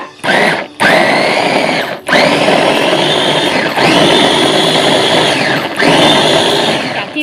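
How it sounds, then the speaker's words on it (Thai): A blender whirs loudly in several pulsed bursts, each spinning up with a rising whine and stopping abruptly, the blades coarsely chopping through snakehead fish. "ปลาโคกเอาลงไปสับในเครื่องปั่นนะจ๊ะ"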